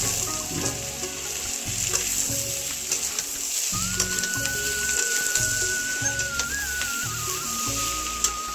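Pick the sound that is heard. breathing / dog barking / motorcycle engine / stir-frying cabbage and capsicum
stir-frying cabbage and capsicum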